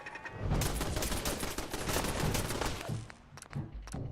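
A flaming turret fires in Fallout 4, a dense, continuous roar of rapid gunfire-like bursts with a brief dip near the end before the fire resumes, loud and close.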